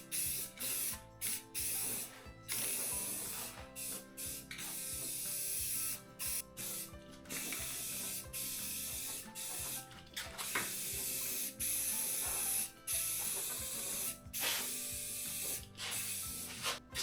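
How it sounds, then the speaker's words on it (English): Spray paint can laying a second coat on a Massey Ferguson GC2300 tractor cab, steady hissing bursts of varying length broken by short pauses, close and fairly quiet, with no talking. "So I'm going to put a second coat on of this spray paint now."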